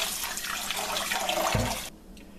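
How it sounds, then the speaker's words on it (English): Zucchini seeds are rinsed under a running faucet: a steady, close rush of water that holds for about two seconds, then cuts off abruptly, leaving quiet room tone. "I'm going to rinse all the seeds."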